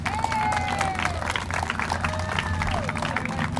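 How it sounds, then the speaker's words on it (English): Rally crowd at a state capitol protest over keeping Rocky Flats closed clapping steadily throughout, a dense continuous patter with voices and faint whistles mixed in, moderately loud and sustained. "Come on, another round of applause for Jerry Hardin."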